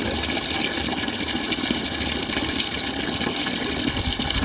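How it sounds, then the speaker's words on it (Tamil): Water gushing steadily from a tap into a 10-litre bucket on a rooftop garden, a continuous rushing, filling sound heard alone at moderate level. "10 லிட்டரு பக்கெட்டில் நான் தண்ணி ஃபுல்லாகவே பிடிக்கிறேன்"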